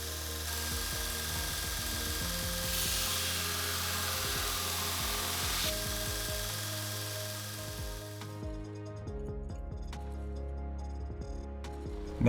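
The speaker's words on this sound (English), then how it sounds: "I used a die grinder, which made quick work of polishing the surfaces" A die grinder polishing the surfaces of an aluminum bronze kiridashi knife, a close, high steady whine with rhythmic scraping passes, cutting off near the end to leave quieter shop sounds.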